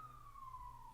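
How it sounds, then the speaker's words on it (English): A faint emergency vehicle siren wails in the distance on a London street, one brief, slowly falling tone over low traffic rumble. "sorry if you can hear sirens,"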